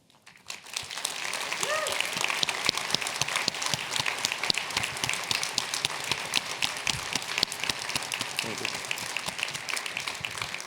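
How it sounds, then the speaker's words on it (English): An audience applauds a digital transformation team standing up at a conference, sustained dense clapping from a large crowd that swells in after a quiet start and continues evenly, with faint voices underneath. "I want you to give them a big applause"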